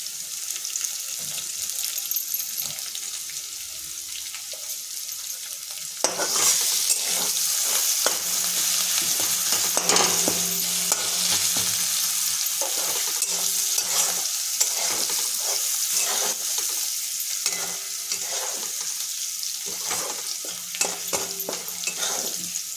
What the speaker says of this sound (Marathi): आता हे सर्व आपण फोडणीचं साहित्य टाकलेलं आहे.